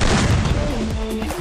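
Rapid gunfire and impact cracks ring out in a Garena Free Fire match, a loud burst of overlapping shots and crashes, with game tones sliding underneath as the fire dies away.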